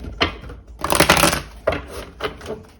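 Several bursts of papery riffling and slapping as tarot cards are shuffled, a long shuffle in the middle with shorter ones after, close and fairly loud.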